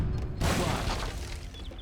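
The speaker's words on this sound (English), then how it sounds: "Oh, explosions." Explosions in the real-time strategy game Age of Empires 3 during an Eighty Years' War battle: a sudden loud crashing boom with scattered debris and clatter that trails off.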